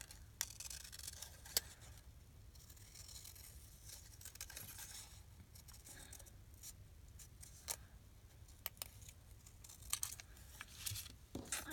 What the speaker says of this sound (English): we'll just fussy cut this out